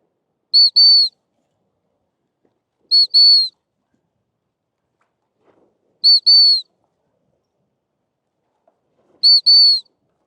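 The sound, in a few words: dog training whistle blowing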